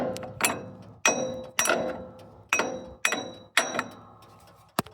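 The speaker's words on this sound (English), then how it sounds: "do your best to not hit the pulley part and hit just the shank" A hammer repeatedly strikes the shank of a tractor pulley, six loud, ringing metallic blows about every half second to second, each decaying before the next, heard up close with no talking.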